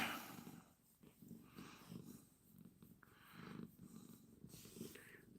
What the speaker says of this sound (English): See if you can hear him purring.